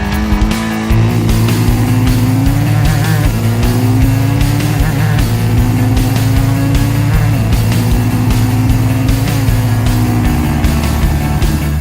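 Bajaj Dominar 400 motorcycle accelerating hard, a loud, steady engine roar rising in pitch through successive gears for about twelve seconds, close and continuous with no talking.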